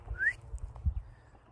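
A person gives a short rising whistle outdoors to call a dog back during off-leash walking, a single clear note lasting a fraction of a second with faint background noise.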